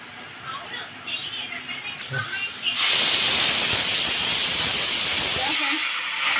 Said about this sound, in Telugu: ఒక విజిల్ వచ్చింది, స్టవ్ బంద్ చేసినాను.